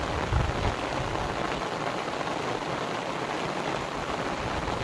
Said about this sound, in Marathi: लय जोराचा पाऊस आलाय